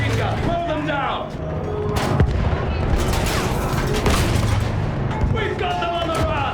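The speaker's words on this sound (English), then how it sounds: "Use the machine gun!" Heavy gunfire from a World War I battlefield in the shooter Battlefield 1, loud and dense with booms and rapid bursts, shouted voices mixed into the din.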